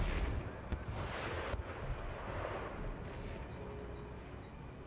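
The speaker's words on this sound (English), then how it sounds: "More artillery coming in." Artillery fire in the video game Empire: Total War, several dull booms thudding over a rumbling battle background at moderate distance.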